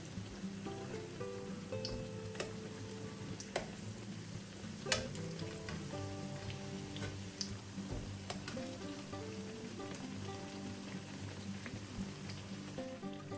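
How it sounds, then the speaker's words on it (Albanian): Dough pieces frying in oil after being turned over, a faint, steady bubbling sizzle with scattered small pops and one brighter click, heard alone and at low level. "Pasi janë skuqur nga njëra anë, do t'i kthejmë dhe do t'i skuqim dhe nga ana tjetër."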